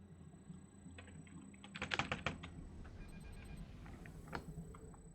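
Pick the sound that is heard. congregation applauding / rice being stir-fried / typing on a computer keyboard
typing on a computer keyboard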